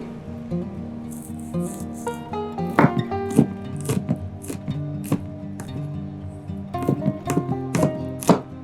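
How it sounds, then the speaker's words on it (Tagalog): Peeled garlic is chopped with a knife on a cutting board, rapid irregular taps in quick bursts, close and crisp, with no voices. "Peel and chop the garlic."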